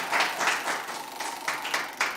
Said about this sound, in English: Let's go, clap.